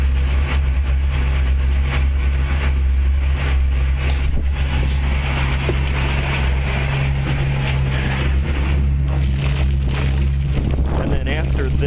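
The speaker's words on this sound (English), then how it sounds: "It's going to take a minute for that engine to warm up." A Sea Ray boat's engine idles steadily while warming up during winterizing, a constant low rumble with wind buffeting the microphone throughout.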